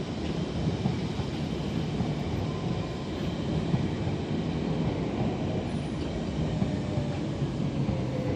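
A train rolls steadily past a station platform, a continuous rumble with wheel noise and faint squeals holding at a fairly constant level throughout.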